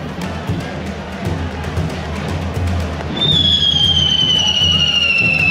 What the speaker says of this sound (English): Yep, they casually light fireworks in the streets and spray the crowd.